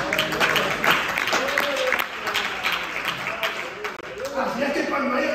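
A church congregation claps together in a sustained, dense burst of applause with voices calling out over it, loud and close throughout.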